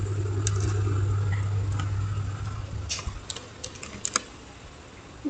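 Typing on a computer keyboard while entering VTP domain settings for a Cisco switch, a run of sharp, irregular key clicks over a steady low hum, fairly close and without talk.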